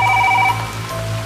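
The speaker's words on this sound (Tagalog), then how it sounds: "Tumunog ulit ang telepono." Telephone ringing in a hotel room, a steady electronic ring tone that cuts off halfway, heard alone over a low constant hum.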